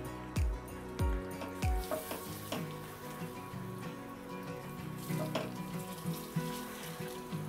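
Pieces of boiled egg frying in a pan, sizzling steadily with a few sharp utensil clinks and scrapes near the start, close and moderately quiet, with no talking.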